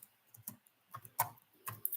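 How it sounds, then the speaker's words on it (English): Scattered keystrokes clack on a computer keyboard, a handful of soft, irregular clicks with short pauses between them, close and faint in an otherwise quiet room. "she's actually typing something out"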